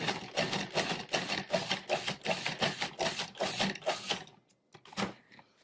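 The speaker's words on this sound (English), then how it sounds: "we're going to pulse that until it's finely chopped" A food processor pulses seeded tomatoes in a quick run of about ten even bursts, each a sharp buzzing whirr, close and clear, ending in a few scattered taps.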